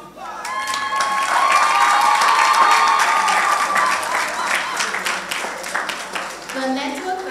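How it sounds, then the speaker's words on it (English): Applause from a graduation ceremony crowd at a secondary school, a dense sustained wash of clapping that swells loud and holds, then thins slightly, with a few cheers and voices mixed in. "we deserve a round of applause"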